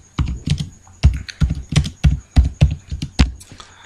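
Keys clatter on a computer keyboard as text is typed, with about a dozen crisp, close taps in an uneven rhythm and no voices.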